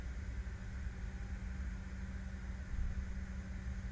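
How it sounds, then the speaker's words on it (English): Steady, gentle hiss of the air conditioning packs with fans whirring softly underneath, inside an idling Aerosoft CRJ 550/700/900/1000 airliner with the Boris Audio Works soundpack in a flight simulator. A constant low, even drone with no talk. "so you can hear the hiss of the air conditioning packs, the fans in the background,"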